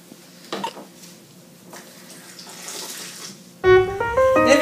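Olive juice poured from a jar into a bowl while making a drink, heard as a short close liquid splash and trickle that follows quieter kitchen handling sounds.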